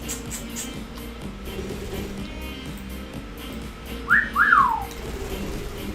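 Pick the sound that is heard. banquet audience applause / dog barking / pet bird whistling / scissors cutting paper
pet bird whistling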